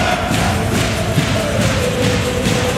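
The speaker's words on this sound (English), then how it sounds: "Now you have the crowd going." Basketball arena crowd at a Bamberg Baskets versus Dziki Warszawa game, a loud sustained roar of cheering spectators with a steady noisy wash and occasional thumps, no clear talk.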